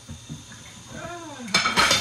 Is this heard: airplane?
no